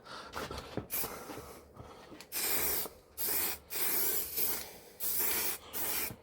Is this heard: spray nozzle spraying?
yes